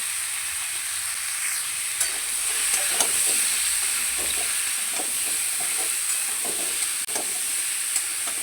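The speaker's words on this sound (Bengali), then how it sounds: "নুন আর হলুদ দিয়ে আমগুলো ভালো করে মিশিয়ে নেব" Raw mango pieces stirred in hot oil with salt and turmeric for a sweet mango pickle: a steady close sizzle runs throughout, broken by repeated soft scraping and clicking strokes of the spoon, with no voices.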